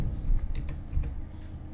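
Brief run of computer keyboard keystrokes while typing a command, a few soft close clicks in quick succession over a low background hum.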